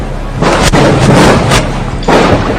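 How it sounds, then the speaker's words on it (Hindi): Heavy gunfire from Chechen fighters on a street during the Russia-Ukraine war, loud booming bursts of shots in quick succession, close and overpowering, with no voices. "कुछ चेचेन लड़ाके एक सड़क पर जोरदार फायरिंग करते हुए दिखाई दिए"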